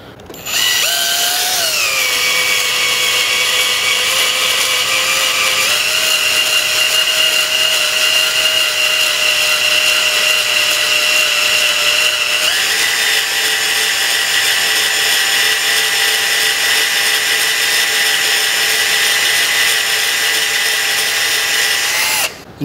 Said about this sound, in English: drilling a hole like this into a steel bar is a slow process